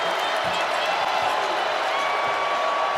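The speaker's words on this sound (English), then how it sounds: "Crowd comes alive here at Food City Arena." A basketball crowd roars at Food City Arena during a Tennessee versus LSU game, a loud continuous wash of cheering with some clapping, under a commentator's voice.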